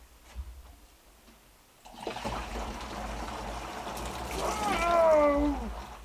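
Water running at an off-grid cabin: after a quiet start, a gushing, splashing flow begins and grows steadily stronger, with a brief voice-like exclamation near the end.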